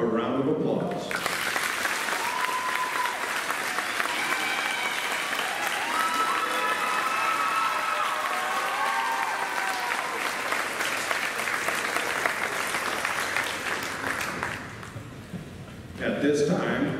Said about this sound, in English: let's give the court a round of applause